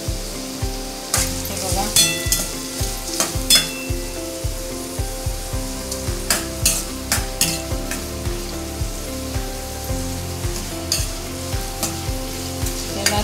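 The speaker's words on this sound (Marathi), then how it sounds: "आता आपल्याला याच्यात कांदा घालायचा आहे, तेल तापलेलं आहे।" Chopped onion fries in hot oil for pav bhaji, a loud close sizzle punctuated by a regular rhythm of spatula stirring strokes against the pan, with a brief spoken word near the start.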